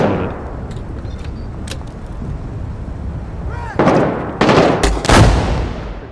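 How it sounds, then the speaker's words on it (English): Frag grenade explosions inside a building in the military shooter game Six Days in Fallujah: two or three loud, close bursts near the end, following earlier scattered sharp gunshots over a steady battlefield rumble. "Big frag right through the window"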